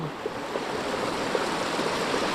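Steady rushing water with a broadband wash and faint gurgles, like a flowing river heard close by, continuous throughout with no voices.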